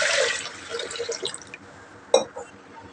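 Water is poured over soaked raw rice and moong dal for pongal, a close splashing trickle that fades into soft drips, with one sharp splash near the end.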